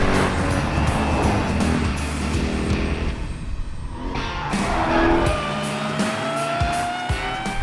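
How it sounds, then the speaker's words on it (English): A 719 hp Dodge Durango SRT Hellcat launching hard with launch control, its engine roaring loud and close as it climbs through quick gear shifts, with a brief tire squeal and no talk. "launch control, foot on the brake, foot on the accelerator, and go."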